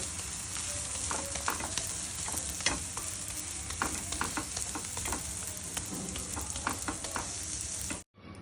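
Aloo paratha fries in oil with a continuous bright sizzle, dotted with scraping and tapping of a spatula, before the sound cuts off abruptly at the end.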